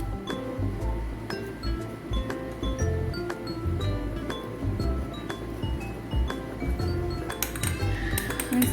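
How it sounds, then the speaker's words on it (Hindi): A spoon clinks steadily against a ceramic mug while cake batter with vanilla essence is stirred for a microwave mug cake, a rhythmic series of bright, close metallic taps with a faint voice in the background. "सब इंग्रेडिएंट्स को अच्छी तरह से मिक्स कर लेंगे।"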